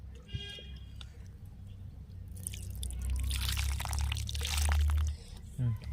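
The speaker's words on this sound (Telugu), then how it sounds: "మంచి నీళ్ళు పోయాం ఎత్తుకొచ్చి ఇప్పుడు పెట్టిన మొక్కలకి" Water splashes and pours for a few seconds onto soil or leaves of newly planted seedlings, including cucumber, preceded by a brief trickle and some soft handling noises.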